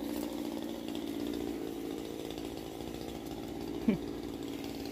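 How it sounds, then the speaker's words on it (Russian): A chainsaw runs steadily and loudly throughout, a buzzing engine drone with a brief sharper rev near the end. "опасаясь достаточно зычных звуков бензопилы"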